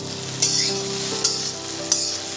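Onion fries in hot oil in a kadai, giving a steady sizzle. Three evenly spaced bright scraping stirs rise above it at close range.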